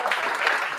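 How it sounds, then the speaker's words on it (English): A meetup audience claps to thank the event's sponsors, a dense, steady patter of many hands at moderate loudness throughout the short burst, with no clear voices over it. "So as I start talking, you guys start clapping."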